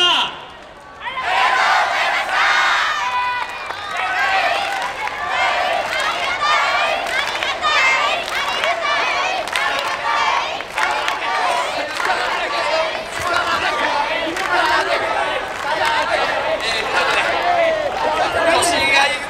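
An excited crowd at a live idol concert event in 2018, rapid overlapping shouts and cheers forming a dense, continuous roar close by.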